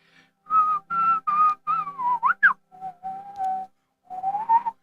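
Someone whistles a wandering string of separate tones, some held and some sliding up or down, close and clear with short pauses between.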